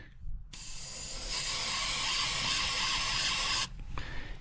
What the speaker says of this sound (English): You just take and you just spray it, you work it.